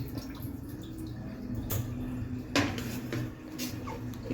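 Pieces of drumstick (moringa) are rinsed in a bowl for a home-style sambar, with water splashing and then poured off; soft dripping and a few sharper clinks of the bowl sit over a steady low background hum, with no talk.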